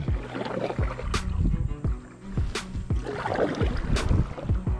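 A man paddles a canoe through lush green forest waters, with rhythmic paddle strokes and water splashes close by, roughly every second and a half, over steady wind and outdoor ambience.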